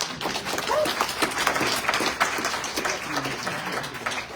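Crowd applause at a community transit meeting, steady moderate clapping lasting several seconds, fairly distant and even, with faint voices underneath.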